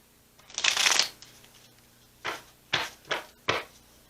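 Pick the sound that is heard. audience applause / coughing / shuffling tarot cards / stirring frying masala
shuffling tarot cards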